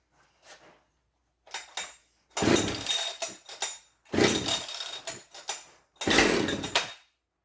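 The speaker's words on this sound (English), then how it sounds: "let me get this thing fired up so you can hear what a high idle sounds like on a 572 auto tuner" Husqvarna 572XP AutoTune chainsaw revving in several loud close bursts, each about a second long, with short gaps of near silence between them.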